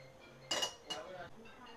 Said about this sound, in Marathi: चला आता आपण पातेलं ठेवू